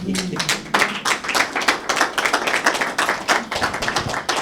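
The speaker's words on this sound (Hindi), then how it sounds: "इसके लिए भी तालियां बजाएं।" An audience at a talk claps in a dense, fast burst of many hands, loud and continuous for several seconds without speech.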